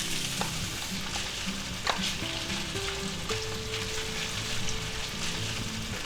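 Beef, broccoli and mushroom stir fry sizzling steadily in a pan with oyster sauce, a continuous close hiss with scraping stir clicks and a low tonal hum running underneath.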